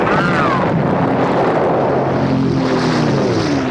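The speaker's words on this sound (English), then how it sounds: "Carrier-based planes come in for almost continuous bombing and strafing." Carrier-based WWII warplanes pass overhead during a beach battle, a loud, steady propeller drone with a rising and falling whine riding on heavy wind-like rumble throughout.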